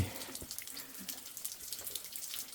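Water drips and trickles inside a cave, a wet, irregular splashing heard fairly close and alone, without voices.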